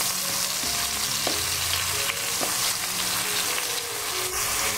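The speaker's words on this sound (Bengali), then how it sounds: "এখন পেঁয়াজ আর এই মশলাটাকে একটু নেড়ে চেড়ে আমি তেলের সাথে ভেজে নিচ্ছি।" Chopped onions and a spice paste fry steadily in hot oil for a potato curry, a loud continuous sizzle with occasional scraping strokes as they are stirred, no voices.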